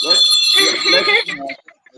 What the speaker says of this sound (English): Let's ring a bell for you